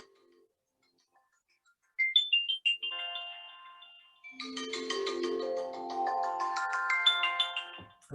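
iPhone ringtone chosen for a contact plays from the handset: a few bright chime notes after a pause, then a fuller melodic pattern of layered tones ringing on without talk.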